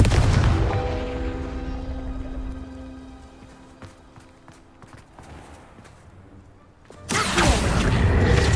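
Hogwarts Legacy fire spell Confringo erupts in a loud explosive burst near the start, fading into quieter footsteps and ambience before another heavy blast rumbles in at the end.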